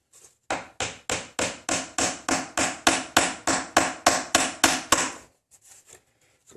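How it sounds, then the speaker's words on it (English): Hammer blows tap a glued dowel into a pocket hole joint in wood: about fourteen sharp, evenly spaced knocks at a steady rhythm, close and fairly loud, then a few faint softer sounds after they stop. "tap it in as soon as I find my hammer"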